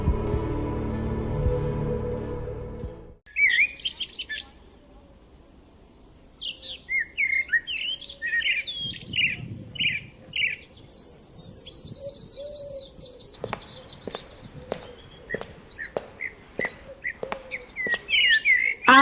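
A cartoon bird chirps in a series of bright, quick tweets and trills, several short repeated calls with brief pauses, after a loud musical passage fades out.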